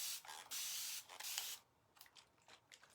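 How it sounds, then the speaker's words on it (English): Water is sprayed from a spray bottle onto chalk paste on a board: several sharp, close hissing bursts in quick succession, then quieter handling noise. "I'm just going to spray it with some water"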